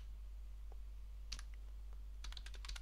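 A short command is typed on a computer keyboard while installing MongoDB on Debian 12 Linux, a single key tap followed by a quick cluster of crisp clicks near the end over a steady low hum.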